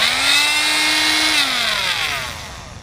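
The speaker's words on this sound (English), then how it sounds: "I'm going to cut it with, of course, my handy dandy saw thingamajig" A handheld saw cuts through 1-inch PVC pipe, giving a loud, steady whir with a rising pitched whine for about a second and a half that then fades.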